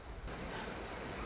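Yosemite Falls roars as a constant broadband rush of falling water, like heavy surf with wind on the microphone, loud and unbroken for about a second.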